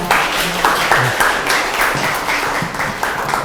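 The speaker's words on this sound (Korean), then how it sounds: "큰 박수 부탁드립니다" An audience applauds to welcome a lecturer at a Korean public science talk, loud dense clapping in a hall that continues steadily with individual claps standing out.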